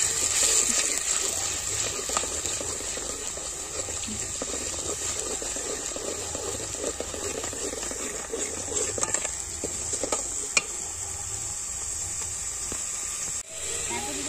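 Raw masala going into hot oil for a spicy chicken curry cooked over a wood-fired chulha, with a steady steamy hiss and bubbling throughout and occasional faint scrapes of stirring.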